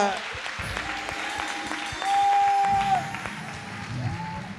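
An audience at a Friday evening show claps for a performer named Joël, a burst of moderate applause that swells briefly in the middle while a voice talks over it.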